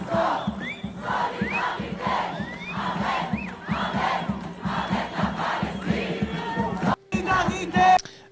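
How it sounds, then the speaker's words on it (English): A large protest crowd of thousands chants in a loud, rhythmic call-and-response, the voices rising and falling in steady repeated bursts with a brief break near the end. "these crowds are filled with thousands of people calling for pretty much the death of"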